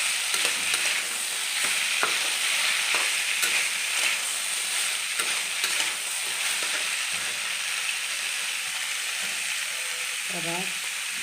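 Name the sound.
stirring spices frying in a pan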